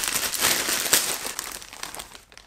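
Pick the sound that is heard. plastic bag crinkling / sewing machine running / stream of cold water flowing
plastic bag crinkling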